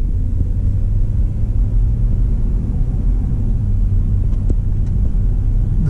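A 1999 GMC Yukon with a swapped-in 2005 5.3 V8, converted to drive-by-cable, cruising along with a steady low engine rumble and road drone throughout, smooth and constant with no talk.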